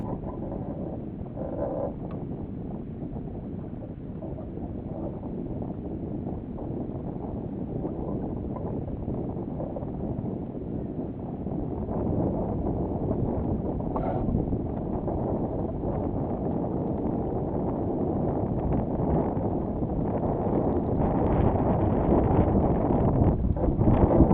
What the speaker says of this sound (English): And then, again, the winds pick up a little bit.